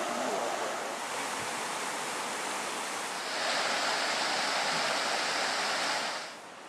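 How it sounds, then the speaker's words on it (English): The Gregory River near Adels Grove flows with a broad, steady rush of water that grows louder midway, then eases off at the end, with no voices over it. "Here's the Gregory River."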